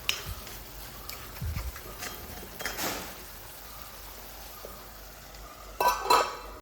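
Prawns and small onions cook in a pan, giving a soft, faint sizzle with occasional scrapes and knocks of a spoon during stirring, and a louder clatter near the end.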